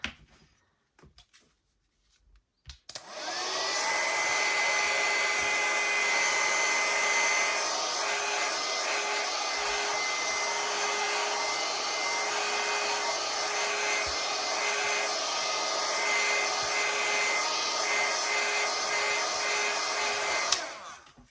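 A hair dryer blows steadily and close for about eighteen seconds, drying watercolour paint on a handmade card, starting abruptly after a few quiet seconds and cutting off near the end.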